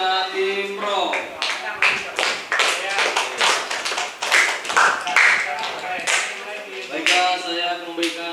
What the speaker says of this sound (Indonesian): beri aplaus dulu kepada tim Pro